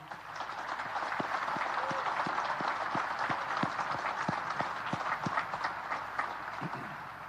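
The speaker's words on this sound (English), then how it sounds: "How about a big round of applause," A large audience at a Naval Academy graduation ceremony applauds, a dense, sustained wash of clapping that swells and holds steady throughout, with a few louder claps standing out.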